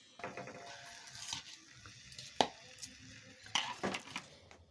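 Patali jaggery stirred into a semolina patishapta mixture in a pan, giving quiet soft scraping broken by a few sharp, irregular spoon clinks against the metal.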